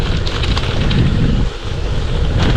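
Steady, loud wind rumble buffeting the microphone while cycling, a continuous roar with no pauses and no voices.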